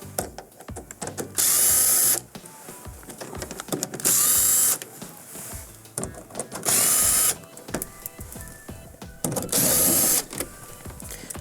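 A nut driver backs out 1/4 inch screws holding a lower compartment cover on an Estate refrigerator: four loud whirring bursts, each about a second long, separated by clicks and handling clatter.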